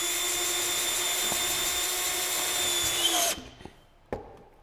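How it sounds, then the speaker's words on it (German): A power screwdriver whirs steadily, driving a TOX Spiral Pro plasterboard anchor into gypsum board with a cross bit, then stops abruptly, followed by a couple of light knocks. "den ich mit einem normalen Kreuzbit in die Gipskartonplatte einschraube"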